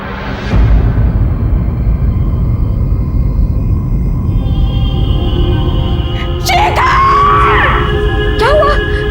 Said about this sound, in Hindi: वो चिल्लाई क्यों?